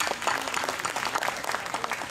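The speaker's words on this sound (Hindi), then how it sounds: "तालियां।" Applause at a karate event as a child is cheered for holding the tree yoga pose, a steady patter of many hands clapping at moderate level across the whole stretch.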